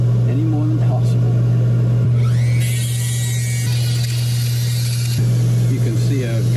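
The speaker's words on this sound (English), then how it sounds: "I'm gonna turn the vacuum on." Shop vacuum running while a whale tooth is carved for scrimshaw, a steady close drone with a whining high rotary tool cutting in and out over it for a few seconds.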